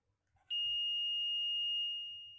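A multimeter's continuity beep sounds while model railway turntable wiring is tested: one steady, loud, high electronic tone that starts abruptly and holds for nearly two seconds before fading, with faint handling noise beneath.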